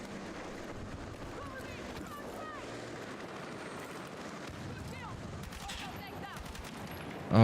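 Rapid gunfire from a gun in a video game with heavy recoil, a dense continuous stream of shots over cluttered game sound, with a loud burst at the very end.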